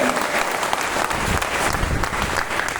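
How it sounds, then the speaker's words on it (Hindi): Loud, dense applause from an audience filling a meeting hall, sustained and unbroken throughout with a bright, roomy wash of many hands clapping. "सब आदमी एक साथ अपने अपने गुरुदेव के लिए जोरदार ताली बजाए ताकि इस हॉल में गुंज जाए"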